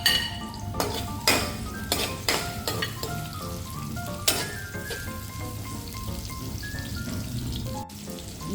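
Spices crackle and sizzle in hot cooking oil in a pan for shrimp curry, with several loud metallic knocks and scrapes of a utensil against the pan at the start, then a steady close frying hiss.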